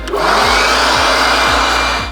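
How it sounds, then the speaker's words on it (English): A blower blasts dust off a vehicle canopy with a loud, steady, close rushing roar. Faint regular ticks pulse underneath, and the roar tapers off at the very end. "just take the blower, blow off the canopy quickly to get rid of all the dust before you open it"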